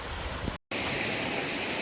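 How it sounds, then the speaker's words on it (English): A river running high at Landsford Canal rushes past in a steady, loud roar of water that stays constant throughout, broken by one very brief dropout near the middle; no one speaks. "River's running high today."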